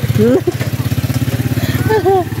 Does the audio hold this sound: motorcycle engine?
yes